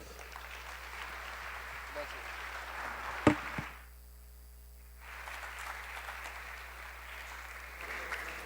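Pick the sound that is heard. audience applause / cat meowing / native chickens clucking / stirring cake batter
audience applause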